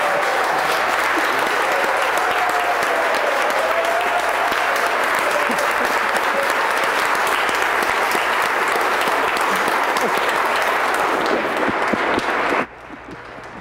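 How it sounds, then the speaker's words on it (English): Loud, sustained applause from a large crowd fills the New York State legislative chamber after a vote, steady and continuous with some cheering, cutting off abruptly near the end. "The legislative chamber burst out with thunderous applause and plenty of emotion as the results of the vote were read."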